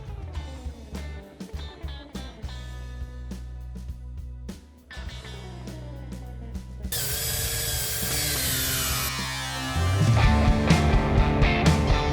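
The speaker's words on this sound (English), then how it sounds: "It goes in your drill and it's designed to remove the rubber from wheel weights" A power drill whirs and grinds as a rubber eraser wheel strips rubber from wheel weights on metal, getting louder and harsher toward the end.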